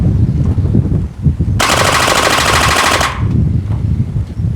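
A gel blaster fires on full auto in one steady burst of about a second and a half, a rapid buzzing stream of shots that is loud and close, with quiet room noise before and after.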